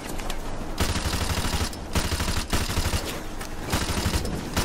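Rapid bursts of loud gunfire crackle from Call of Duty Modern Warfare Remastered, with repeated volleys of a few shots each and brief gaps between them.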